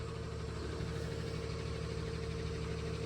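A vehicle engine running steadily with a wheel jacked up and spinning free, a low even hum with a faint rhythmic knock and vibration, heard at moderate distance.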